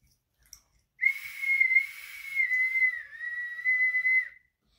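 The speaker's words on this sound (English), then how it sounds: "we're going to see a different sounds the whistle can make." A whistle is blown in one long, steady shrill tone lasting over three seconds, with a slight dip in pitch midway, close and alone after a brief faint click.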